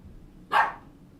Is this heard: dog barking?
yes